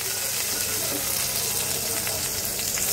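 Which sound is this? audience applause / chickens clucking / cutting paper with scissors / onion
onion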